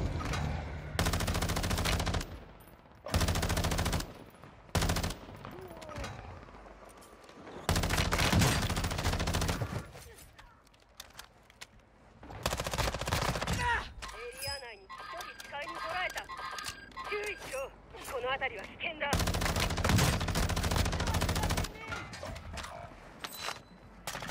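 Gunfire in the video game Warzone 2 comes in loud bursts of automatic fire separated by quieter gaps, with mechanical clicks and other game sounds in between.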